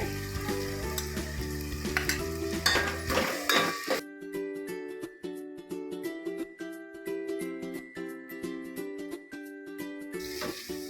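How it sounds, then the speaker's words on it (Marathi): Spices hit hot oil in a pan for paneer matar pulao, giving a close, steady sizzle with stirring scrapes and metallic clinks; the frying quiets briefly midway before swelling again. "आता आपण टाकूया मसाले"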